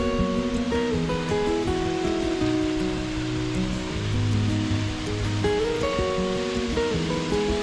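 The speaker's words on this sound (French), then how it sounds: "la petite rivière et la cascade qui était très jolie à voir" A steady, broadband rush of a waterfall and small river in the Pyrenees, heard on a rainy mountain hike, runs continuously under a melodic music bed.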